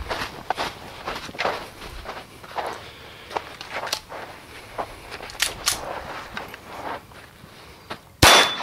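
A Bergmann pistol fires a string of scattered sharp shots while the shooter moves, with footsteps and clanks between reports and a louder, closer bang near the end.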